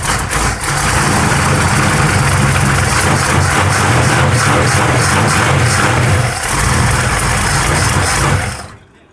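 A classic car engine running rough after carburetor idle-mixture adjustment, loud and close with a steady low rumble that holds for about eight seconds before cutting off abruptly.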